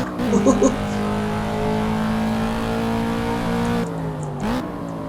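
A Ford Mustang Boss 302 engine in the racing game Assetto Corsa revs and hums steadily at Laguna Seca, shifting pitch as it accelerates, with a brief gear change near the end and faint background noise.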